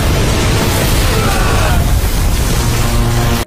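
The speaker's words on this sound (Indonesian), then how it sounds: "ledakan yang sangat besar" A large explosion in an animated series: a dense, roaring blast rumble that holds loud and steady for over three seconds, then cuts off abruptly.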